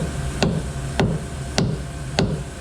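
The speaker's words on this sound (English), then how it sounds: "See if I can move this thing with the hammer a little bit." Four evenly spaced sharp metallic taps of a hammer striking a 16-inch shaft clamped tightly in lathe chuck jaws, each about half a second apart, close and distinct over a steady low shop hum.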